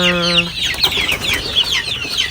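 Young yellow-legged hatch, claret and albany gamefowl chickens cluck and chirp busily and close by, a short drawn-out crow-like call opening a continuous chatter of overlapping bird voices.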